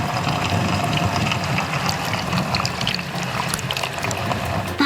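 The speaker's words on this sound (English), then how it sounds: "Did you hear all the water spraying around?" Dishwasher spray arms whirl water around inside the machine, giving a steady, dense rushing and splashing wash at constant loudness throughout, with no voices.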